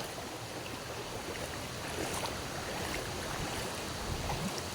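Rising floodwater rushing past at knee height in a flooded area near a pig pen, a steady broadband wash of flowing water without pause.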